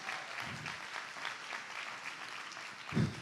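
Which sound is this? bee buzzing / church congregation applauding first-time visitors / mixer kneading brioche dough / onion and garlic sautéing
church congregation applauding first-time visitors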